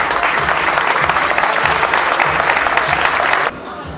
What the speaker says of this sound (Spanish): Bienvenido, un fuerte aplauso